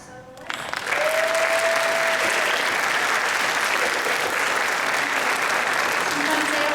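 Concert audience at a spring choral concert applauds the singing soloists: a brief quiet moment and a voice, then dense, loud clapping swells in and holds steady, with a few voices and a cheer over it.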